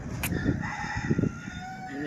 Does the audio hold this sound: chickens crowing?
yes